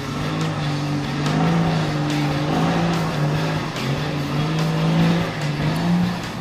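A 4WD on 35-inch tyres grinds up a steep hill climb, its engine droning steadily and labouring under load throughout, close and continuous with no voices.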